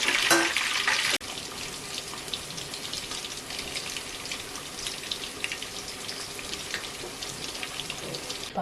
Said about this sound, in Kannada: ಒಂದು 3 ರಿಂದ 5 ನಿಮಿಷ ಫ್ರೈ ಮಾಡ್ಕೊಳ್ಳಿ ಅಷ್ಟೇ